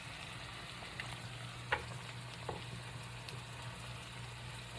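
Plant-based Impossible sausage, taken out of its casing, goes into onions and peppers frying in a pan: a low steady sizzle with a few sharp taps and spatula knocks, quiet and without talk.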